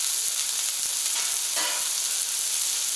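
Onions sizzling on a Camp Chef FTG600 flat top grill outdoors in record cold, a loud, dense, continuous hiss with faint scattered clicks and taps.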